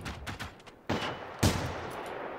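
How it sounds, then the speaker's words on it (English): Enemy gunfire in the video game Generation Zero: a few sharp cracking shots with ragged bursts between them, fairly close and loud, standing alone with no talk. "there's something shooting"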